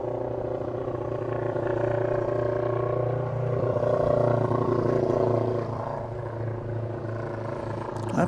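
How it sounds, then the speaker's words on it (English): Airliner taxiing or departing at DFW Airport with a rough, motorcycle-like engine roar, a continuous mid-distance rumble that swells slightly in the middle and eases toward the end. "That plane sounds like a motorcycle."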